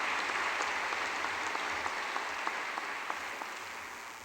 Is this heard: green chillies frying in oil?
no